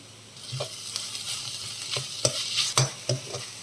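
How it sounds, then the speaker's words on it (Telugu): Ginger garlic paste frying with chilies in a pan for a broad bean (gorichikkudu) dish, a soft steady sizzle broken by several sharp scraping stirs of a spoon, close and moderately loud with no talking. "పచ్చివాసన పోయే వరకు ఫ్రై చేసుకుందాం"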